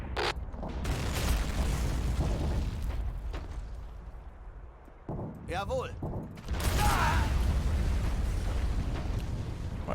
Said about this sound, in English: the constant and immediately accurate mortars that are not being sighted in any way